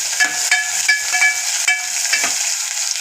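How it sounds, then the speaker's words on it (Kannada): Onions frying in oil for a vegetable sambar, a steady bright sizzle with soft scraping and stirring clicks, close and fairly loud. "ಇವಾಗ ಇವನ್ನ ಸ್ವಲ್ಪ ಫ್ರೈ ಮಾಡ್ಕೋಬೇಕು ಎಣ್ಣೆಯಲ್ಲಿ"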